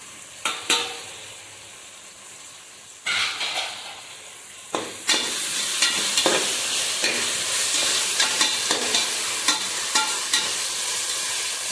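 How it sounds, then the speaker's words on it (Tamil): Mint and coriander leaves are sautéed in a pan for chicken biryani: sharp scrapes and knocks of a stirring spoon come first, then a steady close sizzle of frying with repeated stirring taps running through it. "எல்லாத்தையும் போட்டு நல்லா கொஞ்சம் நேரம் நல்லா வதங்கட்டுங்க."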